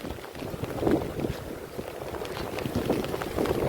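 Strong wind gusts blow across an outdoor spot beside a swollen, flooding river in Hanumangadh, a steady broadband roar with buffeting mixed with rushing water, continuous and fairly loud throughout.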